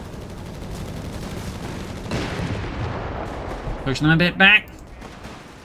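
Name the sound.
MG42 machine gun fire in video game Company of Heroes 3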